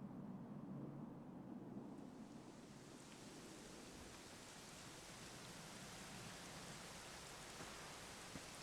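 Steady rain hisses down in the video game Dragon Quest XI, a dense, even wash of noise, continuous throughout with no voices or other sounds.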